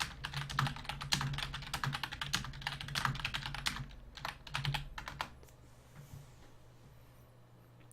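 Rapid clattering keystrokes on a computer keyboard, close and continuous, thin out into a few scattered taps and then stop, with no talking.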